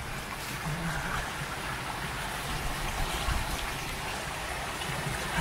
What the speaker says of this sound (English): look at this running water that's coming down